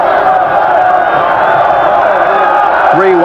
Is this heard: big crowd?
yes